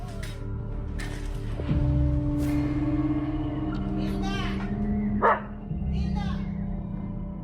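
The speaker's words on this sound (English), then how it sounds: "Again, dog barking." A dog barks a few times outdoors near a forest, the sharp yaps mixed with children's voices and other background noise at moderate volume.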